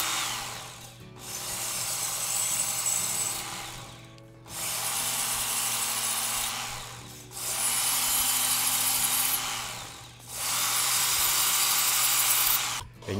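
A serrated knife is honed against an extra fine sanding belt, giving four long, loud abrasive grinding passes with brief pauses between them and a steady machine hum underneath.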